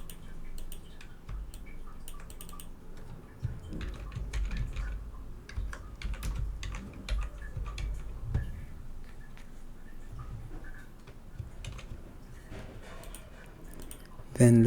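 Computer keyboard typing, a run of quick light key clicks close by, spread through the clip over a low background hum, with a voice talking over parts of it.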